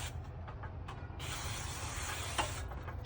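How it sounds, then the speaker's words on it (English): A spray bottle gives a steady hissing spray for about a second and a half after some faint clicks, wetting a car during exterior film installation, then tapers off into soft handling noises. "you're gonna spray even the top, spray the top, spray everything"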